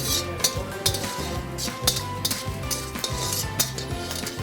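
Peanuts frying in a pan for seasoning, with a spoon repeatedly scraping and clinking against the metal in a steady stirring rhythm over a soft sizzle, close up with no talking.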